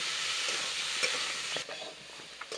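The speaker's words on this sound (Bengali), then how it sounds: "ডুমুরের সঙ্গে আলু ভালো করে ভেজে নেব" Figs and potatoes fry in oil in a pan for a rustic Bengali vegetarian fig dish, a steady close sizzle with a few scraping stirs of a spatula toward the end.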